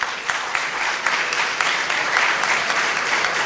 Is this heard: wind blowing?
no